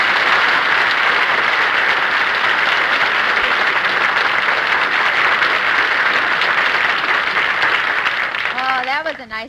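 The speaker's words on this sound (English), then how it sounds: "So did everybody in the drugstore. They all applauded." Applause from people in a drugstore after a record: a loud, sustained burst of clapping filling the whole stretch, dense and even. It fades near the end as a voice begins.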